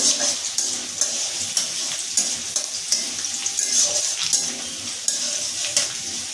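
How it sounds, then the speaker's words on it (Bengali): Garlic and fenugreek seeds frying in mustard oil in a pan, a steady hiss with scattered clinks of a utensil stirring against the pan, with no talking. "মেথি ফোড়ন, তার মধ্যে দিয়ে দিচ্ছি রসুন। রসুনটা হালকা ব্রাউন করে ভেজে নেব।"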